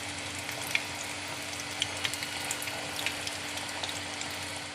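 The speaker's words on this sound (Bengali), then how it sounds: "লাল লাল করে প্রত্যেকটা পিঠে ভেজে নেব।" Vegetable pithe fry in hot oil over medium-low heat, a faint steady sizzle with a few soft pops and crackles scattered across it.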